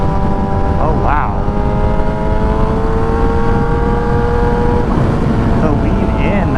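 A Yamaha YZF R6 sport bike engine drones loud and close while riding, holding a steady high-revving pitch with a brief rise and fall in revs and heavy wind noise around it.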